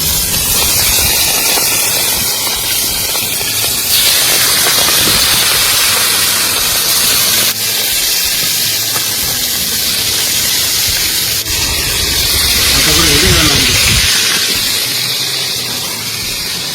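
Mustard-marinated fish, rubbed with salt and turmeric, fries in hot oil during riverside cooking in the Sundarbans, giving a loud, continuous hissing sizzle that holds steady throughout, with brief surges and no speech.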